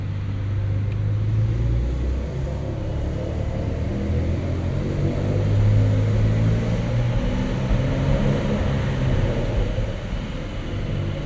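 A 2023 Porsche 911 Dakar with an 8-speed gearbox rumbles through a parking structure, its engine a steady, loud low drone that swells slightly midway as the sound echoes off concrete.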